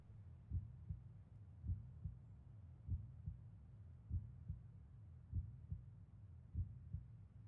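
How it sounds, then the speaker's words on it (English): A heartbeat from the video game Omori thuds low and soft in steady paired beats, about six lub-dub pulses repeating evenly over a faint hum, with no talking. "Why with the heartbeat?"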